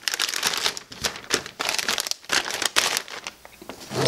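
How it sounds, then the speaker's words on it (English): A 2-gallon plastic bag crinkles around a homemade geode opener, with loud, close bursts of crackling crumples in irregular rhythm and brief pauses, no talking. "Then you place the entire unit into a 2-gallon plastic bag."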